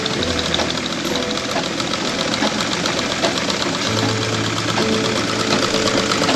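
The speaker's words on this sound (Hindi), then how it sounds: "ये देखिए अभी आपकी मशीन कंप्लीट सिलाई देने लगी है।" A repaired household sewing machine stitches steadily, a continuous fast mechanical chatter with a low motor hum that holds loud and even from start to finish.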